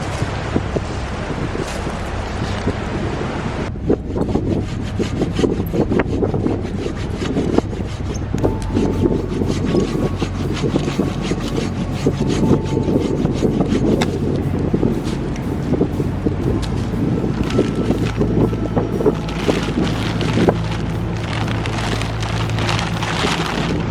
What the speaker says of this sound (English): bending over sawing this wood